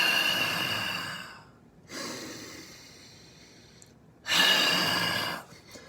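Deliberate deep breathing exercise: three distinct, forceful breaths drawn in and pushed out, fairly close and alone, with a short pause between them.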